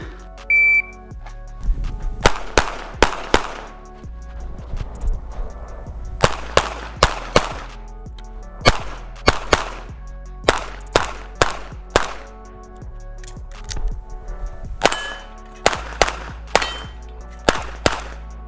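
A Smith & Wesson M&P 2.0 5-inch pistol fires a USPSA stage: sharp, loud shots in quick pairs and clusters, with brief pauses for movement, some steel clangs and an opening timer beep.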